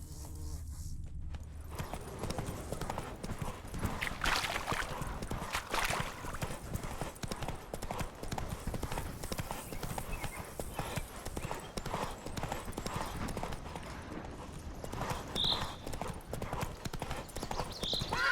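Horse hooves clip-clop in a steady rhythm throughout as a horse is ridden in a video game, the footfalls close and clear over a soft background.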